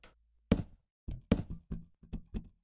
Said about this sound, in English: destroy the unnecessary blocks now